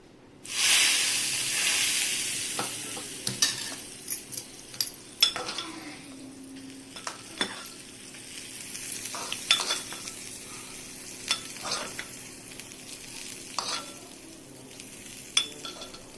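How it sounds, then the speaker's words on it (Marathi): Hot tempering poured onto a coconut, green chilli and salt chutney bursts into a loud sizzle, then settles into a crackling, fading fry with scattered sharp spattering pops and a few utensil taps. "आता मी ही जी फोडणी तयार केली आहे ती त्याच्यावरती टाकून घेते."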